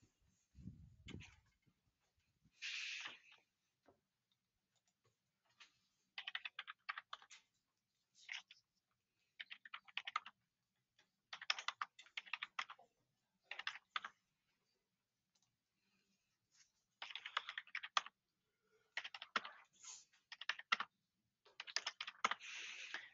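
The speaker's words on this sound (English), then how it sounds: "I'd rather type them." Typing on a computer keyboard as data points are entered, in irregular bursts of rapid clicking separated by short pauses, close and fairly quiet with no talking.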